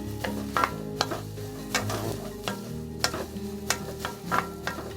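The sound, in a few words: stirring and frying in oiled pan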